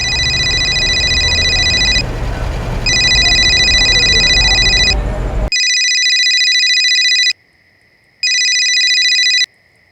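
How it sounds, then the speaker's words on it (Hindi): A telephone ringing in repeated electronic bursts with short gaps, first over a low background rumble, then alone and clean as the ring continues on the line. "आप गोवर्धन चाचा को फोन लगाइए ना।"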